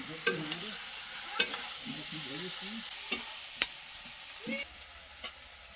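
Desi chicken curry being stir-fried in a pot over a wood fire, a steady low sizzle broken by several sharp scraping clinks of the spatula, with no talking.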